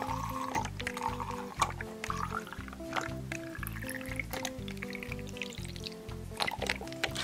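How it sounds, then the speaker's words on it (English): Water trickles as it is poured into a small toy baby doll's water bottle. The soft liquid sound sits under steady background music throughout. "let's pour this water in."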